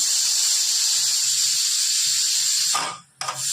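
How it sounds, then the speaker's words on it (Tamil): A kitchen pressure cooker blows its whistle, a loud, steady, high-pitched hiss of escaping steam that cuts off near the end with a short sputter. "ஒரு விசில் வந்துருச்சு நம்ம குக்கர் ஓப்பன் பண்ணி பார்க்கலாம்"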